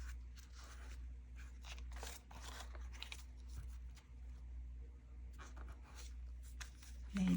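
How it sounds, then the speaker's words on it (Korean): Hanji colored paper is scored and folded to make a paper hanbok, giving faint, close crinkling and crisp creasing rustles in irregular short bursts. "접어주세요."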